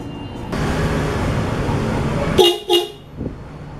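A sustained engine-like drone cuts off, then two short, loud honks of a vehicle horn sound close by, followed by quiet.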